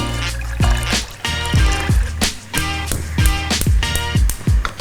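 Water poured onto sugar in a pan for helva syrup gives close, loud glugging pours in repeated bursts with gurgling drops and splashes, no voices.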